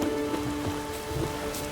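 Steady rain in The Witcher 3 falls as a dense, even patter on surfaces, a constant hiss with a faint tonal ambient hum beneath and no voices.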